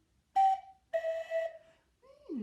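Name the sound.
cuckoo whistle blown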